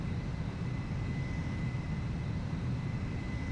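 A jet fighter on landing approach in Ace Combat 4 gives a steady, continuous engine roar with a thin sustained whine riding above it, holding at an even level throughout with no talk.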